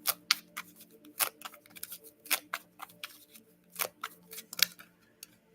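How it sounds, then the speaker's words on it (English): A deck of cards gets shuffled close up, with sharp irregular riffling snaps and taps in quick bursts over a quiet background. "So I need to shuffle this a lot more."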